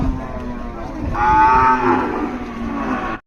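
A cow gives a long, loud moo close by, a drawn-out bellow rising over the low background noise of a crowded cattle market in Paragram, Hozrotpur, Bangladesh, where cows are sold for Qurbani.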